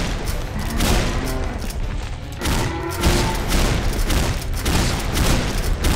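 Dense, continuous gunfire from an infinite-ammo weapon in a zombie video game, a loud unbroken barrage of rapid shots and booms running through the whole stretch.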